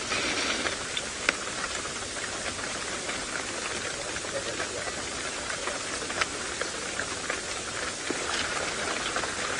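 Rain falls steadily on an open safari vehicle in the rain-soaked Masai Mara, a dense, even hiss with occasional sharper drop ticks, close and continuous without a break.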